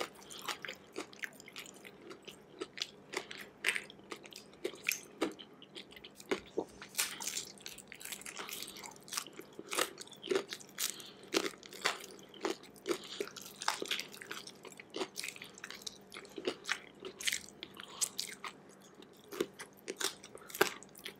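Close, wet crunching and chewing of Taco Bell crispy chicken wings with ranch sauce, a steady run of loud bites and squishy mastication over about twenty seconds.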